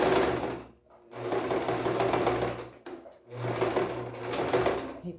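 A domestic sewing machine runs in two close, steady bursts of stitching separated by short pauses, the second burst marking a brief backstitch before it carries on, with no voices present.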